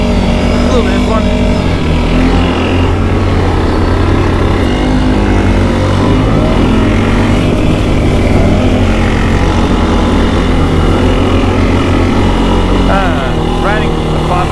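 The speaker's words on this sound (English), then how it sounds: "Riding a quad without mud tires." CFMoto CForce 600 quad, a 2020 model, riding on stock non-mud tires over a small hill, its engine droning steadily and loudly close by throughout, with a person talking over it.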